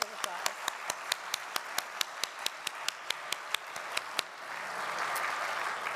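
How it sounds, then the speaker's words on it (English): A small crowd at a Jewish Federation annual meeting claps in crisp, distinct hand claps at first, then the clapping swells into a denser round of applause. "Let's give everyone a round of applause."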